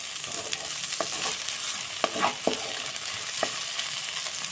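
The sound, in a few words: okra (lady's finger) stir-frying in a pan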